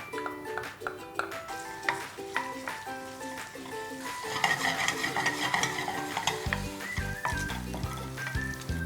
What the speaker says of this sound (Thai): ในกระทะนะครับเราใส่น้ำมันลงไป 2 ช้อนโต๊ะครับ ใส่เบคอนลงไปผัด